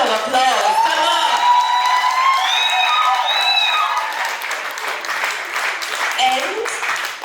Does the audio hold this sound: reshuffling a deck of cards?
no